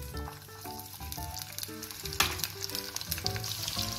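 Garlic sizzles and crackles as it hits hot oil, with cumin and green chilli already in the pan for a brinjal dish, a busy frying hiss mixed with clinks of stirring.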